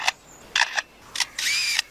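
A lyrebird imitates a camera shutter with four sharp, clicking bursts in an uneven pattern, the last one longer and whirring, close and distinct over quiet surroundings.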